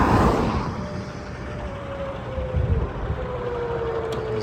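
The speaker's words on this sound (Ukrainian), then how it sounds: "Приїхав Міша із е, траком." A semi truck rolls up with a steady low engine rumble and a faint rising whine, nearby and continuous throughout.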